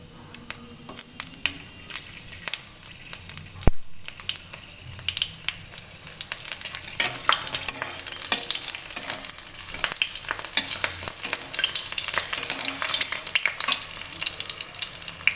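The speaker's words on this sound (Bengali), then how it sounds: "তো কাঁচা লঙ্কাটা বেশি পুড়িয়ে ভাজবো না, হালকা একটু ভাজা হতে হতেই এর মধ্যে শাক দিয়ে দেবো।" Hand-broken green chilies fry in hot oil before water spinach goes in, a sharp tap and a few clicks giving way to a loud, continuous sizzle with stirring scrapes close by.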